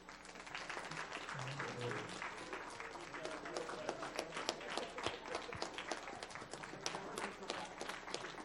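An audience at a board meeting applauds an award recipient, steady hall-filling clapping that runs the whole time at a moderate distance, with faint voices underneath.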